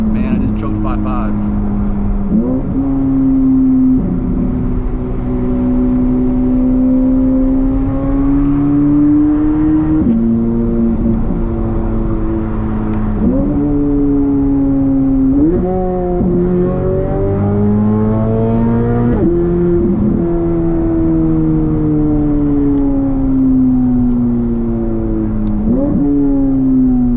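Chevrolet Corvette C8 Z06 engine revved repeatedly, each blip climbing in pitch and settling back into a loud, close, sustained high idle, with no talking over it.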